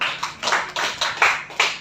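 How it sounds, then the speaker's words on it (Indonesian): A small group claps in a school training session, a few distinct, spaced bursts of hand claps close by, with no talking over them. "Beri tepuk tangan untuk Bu Ayu."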